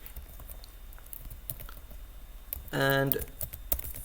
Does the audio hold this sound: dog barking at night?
no